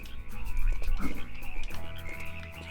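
Croaking frog in TY the Tasmanian Tiger, heard near a cave amid layered game music and ambience, with a few low croaks rising around the middle and no talk.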